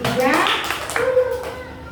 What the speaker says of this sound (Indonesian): kalau merasa senang, tepuk tangan